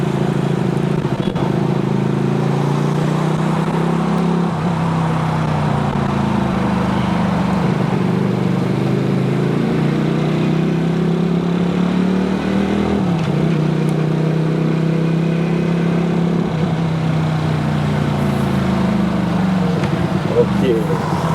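A QJmotor four-cylinder motorcycle engine runs steadily and loud throughout, its revs rising and falling in smooth sweeps as the automatic gearbox shifts down, with no break in the drone.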